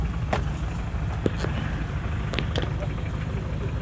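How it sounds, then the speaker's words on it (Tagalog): A dump truck engine idles nearby with a steady low rumble, broken by a few faint clanks and clicks. "ito na yung dump truck"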